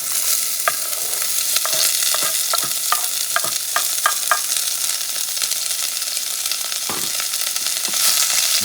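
Onions and peppers sizzle loudly in a hot pan with a constant hiss, punctuated by scraping clicks of a utensil stirring them around.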